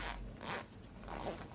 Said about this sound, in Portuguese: eu tenho que separar o zíper